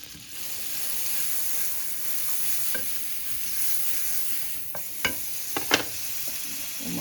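Butter sizzling in a preheated pan, a steady hissing fry throughout with a few sharp clinks and taps of a utensil toward the end, no talking.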